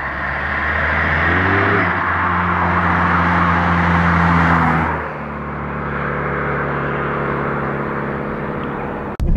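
A Mk1 Skoda Fabia vRS with the 1.9 TDI diesel drones loudly and steadily with a rising whir, easing off briefly midway before continuing, up close with no talk.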